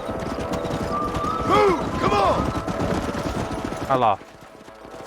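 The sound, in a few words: horses' hooves galloping in video game Red Dead Redemption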